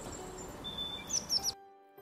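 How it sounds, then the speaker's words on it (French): Birds chirp in spring, a few short high tweets and a thin whistle over soft outdoor background, faint and brief before the sound cuts off. "Les oiseaux gazouillent."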